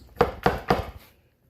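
Three sharp, evenly spaced thunks of a knife piercing pork shoulder skin for pernil, close and distinct, followed by a short pause and a fourth faint tap at the end.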